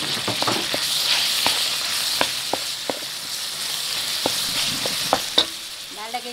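Ground pork fries in a pan for pancit Malabon, a continuous close sizzle punctuated by repeated sharp taps and scrapes of a utensil stirring the meat; no one talks.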